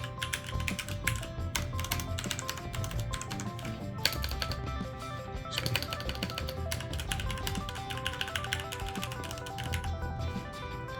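Rapid, continuous typing on a mechanical keyboard with linear Cherry MX Red switches, keystrokes clacking in quick irregular bursts, close up and fairly loud throughout.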